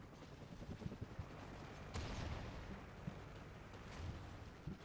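Bursts of M27 rifle fire in Call of Duty: Ghosts, a busy mix of rapid shots and sharper cracks heard at moderate distance, with scattered impacts and a louder burst near the middle.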